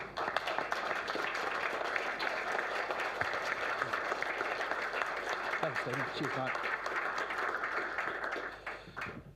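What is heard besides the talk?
audience applause for speaker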